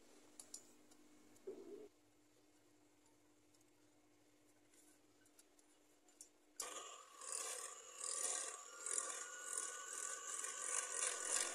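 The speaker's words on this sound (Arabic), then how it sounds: "كتلاحظوا كنبقى كنطرف داك الكريمه ديال البيض والحليب حتى كتعقد شويه" An egg-and-milk custard cream for oat ice cream is whisked in a bowl: a few quiet, scattered scrapes come first, then a steady, brisk scraping and rattling runs continuously through the second half, with no voices.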